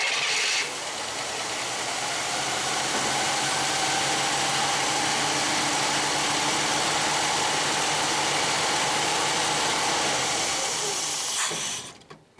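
A 1966 Chevy Biscayne big block V8 with a rebuilt Quadrajet carburetor runs steadily and loudly for several seconds with a busy, rattling roar, then cuts off abruptly near the end.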